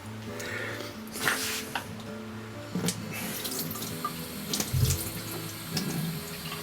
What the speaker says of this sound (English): A little bit of water, cold water that is.